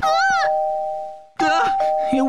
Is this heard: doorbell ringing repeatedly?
yes